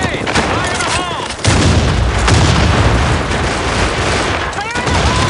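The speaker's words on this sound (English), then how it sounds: "Grenade! Grenade! Fire in the hole!" Grenade blast in a combat video game amid a dense, loud barrage of gunfire and booming explosions lasting throughout, with a sharp jump in intensity partway through; shouted callouts mix into the chaos.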